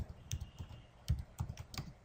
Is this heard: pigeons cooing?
no